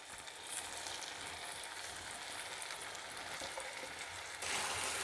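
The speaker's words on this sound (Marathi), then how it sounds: "आपण आता यात धुवून घेतलेला तांदूळ ॲड करू।" Washed basmati rice tipped into vegetables frying in oil in a pressure cooker for masala pulao, a steady close sizzle with faint stirring scrapes that swells louder near the end as the rice goes in.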